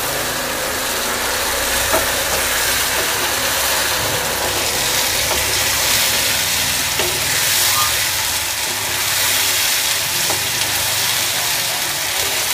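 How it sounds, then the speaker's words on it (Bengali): Spices frying in a pan for a taki fish and thankuni leaf dish, a steady close sizzle with faint clinks of stirring, continuous and alone without talk. "এখন আমি মশলাগুলো খুব ভালো করে ভেজে নেব"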